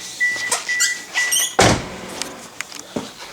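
A 1993 Ford Escort's door slams shut with one loud, close thud, with faint clicks and light rattles before and after.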